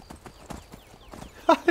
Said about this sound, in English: I love this horse.